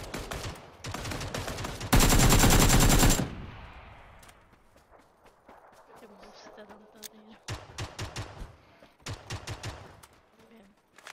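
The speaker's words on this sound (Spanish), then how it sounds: "son tiros" Video game gunfire during an online match: sharp bursts of automatic fire, one long loud sustained volley, then scattered shots and rapid bursts with faint voices between.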